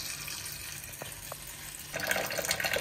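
Supposedly drinkable tap water in a hotel room in Hurghada, Egypt, running from a faucet, a steady close splashing hiss that swells louder in the last second.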